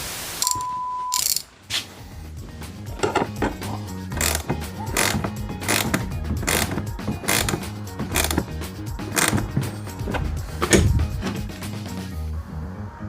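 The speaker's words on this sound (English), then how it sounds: "let's see if we can get this nut on" Ratchet clicking in short bursts as a nut is tightened onto a fog light bolt during a fog light install on a turbo LS V8-swapped Subaru Forester, close and fairly loud, with a brief beep near the start.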